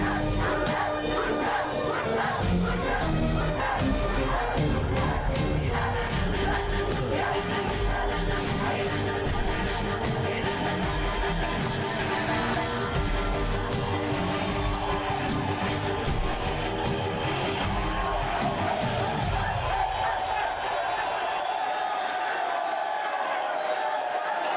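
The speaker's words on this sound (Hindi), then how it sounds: "जनता की दाद सुनाई दे रही है?" Large crowd cheering and shouting, a dense, loud roar of many voices with scattered claps and whistles, sustained for most of the stretch before fading out at the end.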